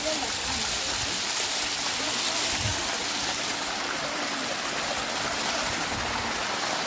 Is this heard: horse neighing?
no